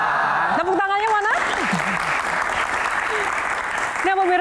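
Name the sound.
studio audience applause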